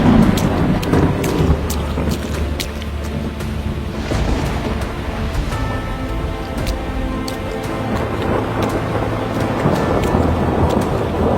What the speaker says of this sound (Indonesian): Hujan turun dengan deras disertai dengan petir yang menyambar